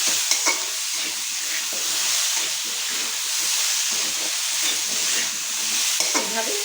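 Potatoes fry in a pan with a constant bright hissing sizzle, interrupted by a few scraping clinks of stirring, near and fairly loud.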